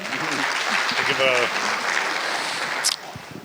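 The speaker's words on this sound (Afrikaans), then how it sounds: "Kom ons gee Dion 'n lekker hande klap." A church congregation gives a warm round of hand clapping to welcome a pastor, a soft, even spread of clapping with a voice speaking over the start, fading near the end.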